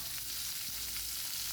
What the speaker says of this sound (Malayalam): പിന്നെ മീൻ ഏതായാലും ചട്ടിയിൽ വെളിച്ചെണ്ണയിൽ തന്നെയാണ്. വെളിച്ചെണ്ണ ഒക്കെ ചൂടായി.